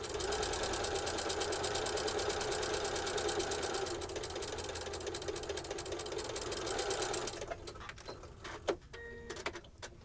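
A sewing machine stitching a quilt block seam, steady rapid mechanical whirring for several seconds that slows and stops, followed by a few soft handling clicks and thumps.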